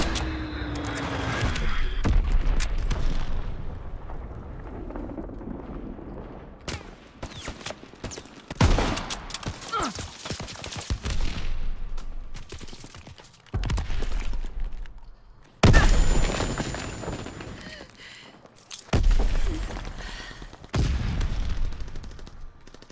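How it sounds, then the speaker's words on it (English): An Azon guided bomb is dropped and explodes in Call of Duty WWII, producing a series of heavy booming blasts and bursts of gunfire separated by quieter gaps. "Azon bomb mission underway. Dropping Azon bomb."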